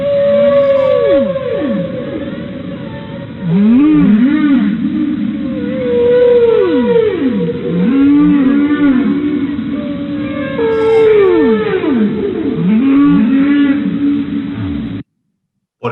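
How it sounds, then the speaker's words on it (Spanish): Whale calls sweep up and down in long moaning and squealing tones, loud and continuous, layered over one another for about fifteen seconds before stopping abruptly. "Son ballenas, efectivamente."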